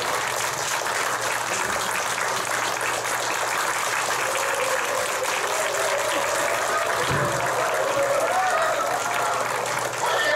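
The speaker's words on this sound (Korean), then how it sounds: "박수로 맞아주세요" A church audience in Jinhae welcomes a ventriloquist performer to the stage with sustained applause, a thick continuous hiss of many hands clapping that stays loud and even for the whole stretch.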